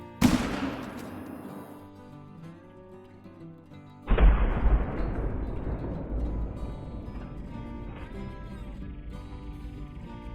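Two sharp rifle reports from a camo .270 Warden in the hunting game Call of the Wild, one right at the start and a louder one around four seconds in, each followed by a long rolling echo over the game's ambient sound.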